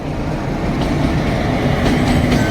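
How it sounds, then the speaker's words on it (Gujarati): A train passes through a village, a steady rolling rumble of rail cars with faint clickety-clack, continuous and fairly close, with no talking. "જોજો આ નીકળે છે ટ્રેન"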